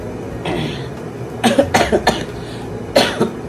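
A run of harsh, close coughs in quick succession, then a brief pause and one or two more coughs.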